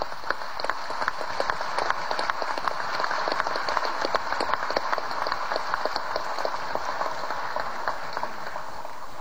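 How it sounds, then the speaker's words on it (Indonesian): Sustained applause from a parliamentary audience after a presidential state address, a dense steady patter of many hands clapping without a break throughout. "Sepatutnya lah sekali lagi kita berikan aplaus kepada beliau."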